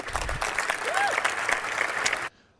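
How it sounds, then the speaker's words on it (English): Applause breaks out at a sports press conference, a brisk burst of clapping from a small room that cuts off abruptly. "Gotta love applause at a press conference."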